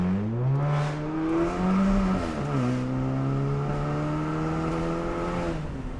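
A 360-horsepower VW Golf with an IS38 turbo pulls hard through the gears, its loud, steady engine note climbing, dropping at a shift, then rising again from inside the car.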